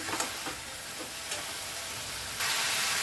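Green chili paste and black pepper powder sauté in a pan, giving a steady low sizzle with a few stirring scrapes and a louder hiss near the end.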